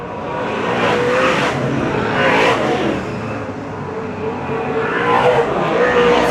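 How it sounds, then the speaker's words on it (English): Methanol-fuelled V8 Super Saloon race cars of around 800 horsepower roar past at Beachlands Speedway in New Zealand, loud engines swelling and fading in repeated sweeping passes with bursts of acceleration. "800 odd horsepower, methanol, V8 powered Super Saloons here at Custom Signs Beachlands Speedway."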